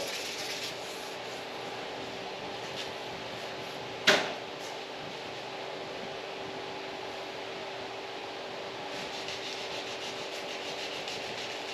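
A steady, even rasp of hand sanding down spots on a painted golf cart surface runs throughout, with a sharp knock partway through and a constant hum underneath.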